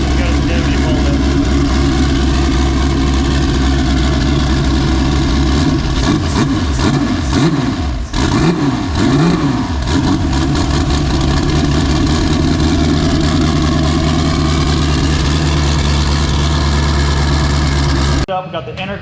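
A Porsche 935 engine idles steadily right after a clutch replacement, a loud, close, continuous low rumble with a brief blip of revs midway, then cuts off near the end.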